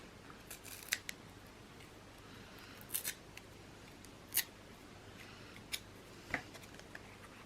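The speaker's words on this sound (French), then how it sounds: "Je coupe pas, je déchire." Paper torn by hand for a Stamperia Sunflower junk journal: a handful of short, crisp rips spaced a second or two apart, quiet and close against a faint background hum.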